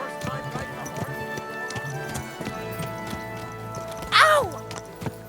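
Horse hooves clip-clop in a steady galloping rhythm, close and loud, in the medieval video game Kingdom Come: Deliverance 2. Speech is heard across the hooves, and near the end a horse gives a sharp whinny.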